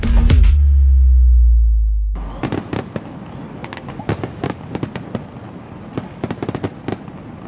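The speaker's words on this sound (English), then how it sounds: "Fireworks over Coors Field as we head into the 4th of July weekend." Fireworks over Coors Field in Denver before the 4th of July burst in a rapid series of sharp cracks and pops after a loud, rumbling opening boom, the blasts echoing with crowd noise faintly underneath.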